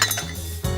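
Almonds tumble into a metal mixer grinder jar while qalia narang is being prepared, making a short, close clatter of hard clinks against the jar before a second quick rattle.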